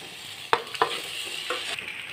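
Boiled macaroni is stirred and tossed in a pan with egg and seasonings, a spatula knocking the metal a few times over a steady light sizzle, close up with no voices.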